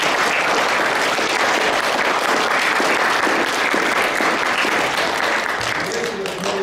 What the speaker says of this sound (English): So I'd like you all to give them a round of applause.